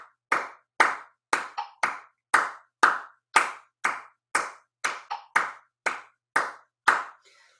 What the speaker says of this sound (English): the second foot tap falls between the 4th and 5th hand claps